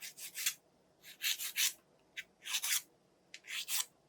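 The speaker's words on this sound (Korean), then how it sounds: "혹시 보지 못했던 부분이나 프리엣지가 있으면 한 번더 우드 파일로 다듬어 줍니다" A wooden nail file works along fingernail edges during a gel manicure, producing quiet, close rasping strokes in quick clustered bursts separated by brief pauses.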